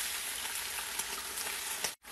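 Meat frying in hot oil in a pan, a steady close sizzle and crackle with scattered pops, continuous until a brief cutoff near the end.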